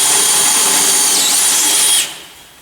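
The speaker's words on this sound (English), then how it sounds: "Now I'm using a Harbor Freight step drill bit." A loud, high-pitched power drill whine as a step drill bit grinds steadily through metal for about two seconds, then cuts off and fades away.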